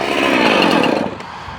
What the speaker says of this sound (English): And this is the chainsaw that we rebuilt.